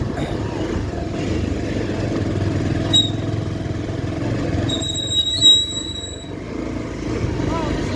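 A motorcycle rides along a dusty, potholed road with a low steady engine rumble, joined by a few brief high squeals and another bike nearby, while a voice talks over it.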